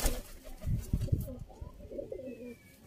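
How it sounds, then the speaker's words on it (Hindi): A khaki pigeon coos close by in a soft, low rolling call, with some rustling and shuffling near the start, then fading toward the end. "खाकी चूहा कबूतर"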